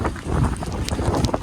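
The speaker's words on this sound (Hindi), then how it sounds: "बहुत तेज हवा आ रही है यहाँ पे" Strong gusty wind buffets the microphone on an 8th-floor rooftop terrace, a loud, continuous roaring rush with no talk.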